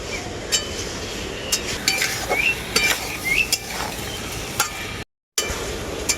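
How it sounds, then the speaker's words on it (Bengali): Fried potatoes and chicken pieces being sautéed together in a pan, with soft sizzling under repeated clinks and scrapes of a metal spoon against the pan, then a brief dropout near the end. "এখন এর মধ্যে ভেজে রাখা আলুটাও দিয়ে দেব আলুটাকেও আমি মাংসের সাথে খুব ভালো করে কষিয়ে নেব"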